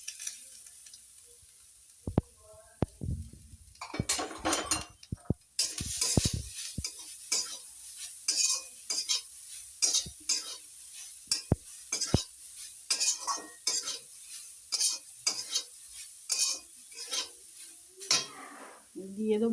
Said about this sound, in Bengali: কড়ার মধ্যে দিয়ে দেবো 4টে এলাচ, দিয়ে দেবো নারকেলটাকে